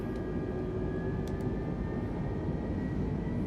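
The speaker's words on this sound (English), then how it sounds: "Aircraft is accelerating" Airbus A320neo jet engines drone steadily as the airliner accelerates and climbs after takeoff from Toulouse, a constant broadband cabin roar with a faint tonal whine, no speech.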